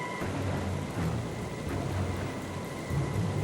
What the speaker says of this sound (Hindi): पानी की आवाज है,